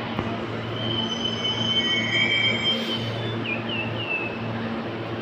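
An NGR passenger train pulls into a platform at South Brisbane station, its wheels squealing in long high-pitched tones over a steady low rumble of the moving carriages, fairly close and sustained throughout.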